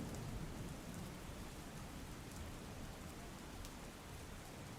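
Heavy rain pours continuously during flooding in Rajkot's Ramnathpara area, a dense, even hiss with no break across the few seconds.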